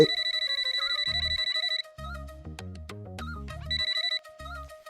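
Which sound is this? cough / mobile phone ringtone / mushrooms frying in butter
mobile phone ringtone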